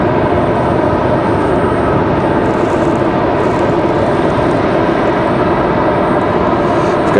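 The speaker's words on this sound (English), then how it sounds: "We've got JetBlue 626 coming in from Fort Lauderdale." A JetBlue airliner arriving from Fort Lauderdale at Raleigh-Durham International Airport makes a loud, steady engine roar that fills the whole stretch without a break.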